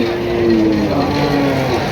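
A loud, drawn-out low moo from a nearby bullock, steady for two seconds over a dense background of crowd noise at a cattle market.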